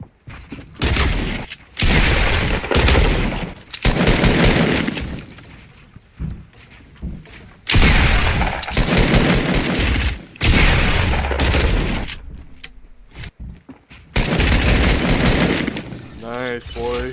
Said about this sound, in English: Got a double barrel, watch out.